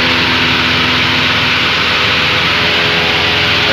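Steady, loud drone of a Cessna 172 Skyhawk piston engine in flight, captured inside the cockpit on a flight from Harvey Field to Port Angeles, a continuous broadband roar with a low throbbing hum and no voices.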